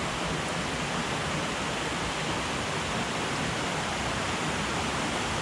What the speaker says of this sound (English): refill it out of the running creek there